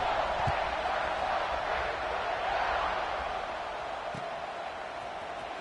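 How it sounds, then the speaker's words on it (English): A football stadium crowd buzzes after a score, a steady distant roar of many voices that stays even and moderately faint throughout, with a couple of soft knocks. "this crowd is buzzing after that last score"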